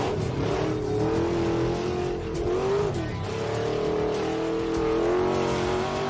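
A 1978 Chevy El Camino with a swapped diesel engine revs hard in first gear, a loud sustained engine roar held at the floor, dipping briefly and climbing again.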